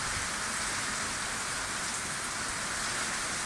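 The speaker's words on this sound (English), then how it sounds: "Had some small showers before now, but monsoon season has arrived." Heavy monsoon rain pours down in Nakhon Nayok, Thailand, a dense, steady roar of drops drumming on surfaces, loud and unbroken throughout.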